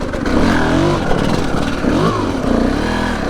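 A 2022 TM EN300fi fuel-injected two-stroke dirt bike engine running close by, a loud continuous buzzing drone with slight rises and falls in pitch as it is revved.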